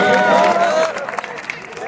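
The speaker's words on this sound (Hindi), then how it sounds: "जोरदार तालियों से उनका मान सम्मान होना चाहिए।" Applause at a school function honoring a police constable, a burst of broadband clapping that rises after an opening of voices and tones and continues in scattered, fairly loud claps to the end.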